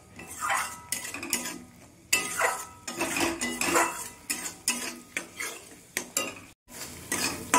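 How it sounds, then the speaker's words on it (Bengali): Utensil scraping and clattering against a pan while spice paste is stirred and fried with a little water, in irregular bursts with a faint sizzle underneath. "মশলাটা অল্প করে জল দিয়ে কষিয়ে নেব।"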